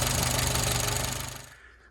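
A 1983 Renault Trafic C1J petrol engine runs steadily after an exhaust manifold leak repair, giving a dense, close mechanical clatter and drone with a faint rhythmic knock before it fades away near the end.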